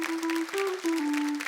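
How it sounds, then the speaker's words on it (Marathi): Studio audience applause on a Marathi women's television game show, a steady burst of clapping lasting the whole moment, with a sustained musical tone underneath. "एकदा जोरदार टाळ्या झाल्या पाहिजे"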